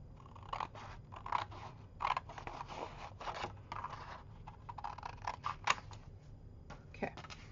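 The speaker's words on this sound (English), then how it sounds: "I'm going to cut it right at this brick line." Scissors snip through patterned paper along a printed brick line during a shabby-style stuffed envelope craft, a series of short close crisp cuts in irregular rhythm with faint low background hum and no talk.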